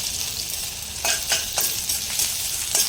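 Mustard seeds, curry leaves, chopped chili and ginger fry in hot oil with a continuous crackling sizzle, broken by several sharp spatula scrapes against the pan; no voices.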